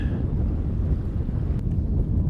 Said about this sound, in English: I'm going to have to fight the wind all the way back